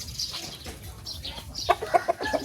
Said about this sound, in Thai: เลี้ยงไก่